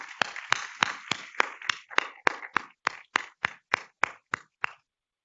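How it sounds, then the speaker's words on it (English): Audience applause at a reproductive health and environment science and policy event, heard as a short run of about fifteen distinct, evenly spaced claps, fairly close and fading out after under five seconds. "So I'd like to give them a round of applause as well."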